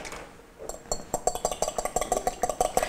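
Egg yolk and cold water stirred together in a bowl, with a quick run of clinking, tapping strokes of utensil on the bowl that begins hesitantly and settles into a steady, close rhythm.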